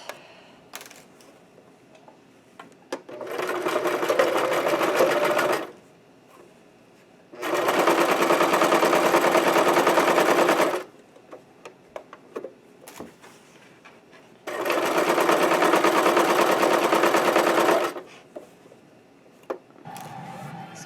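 A sewing machine runs a 5/8 inch seam around a cosplay underskirt in three sustained bursts of fast, steady stitching, separated by quiet pauses filled with small handling clicks and fabric shuffles.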